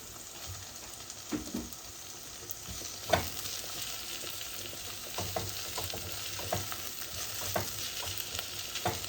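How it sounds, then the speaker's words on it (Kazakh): Quiet steady sizzling of onions and pickled cucumbers frying in a pan, with scattered soft scrapes and taps of stirring. "Осыны енді бірге қуырамыз."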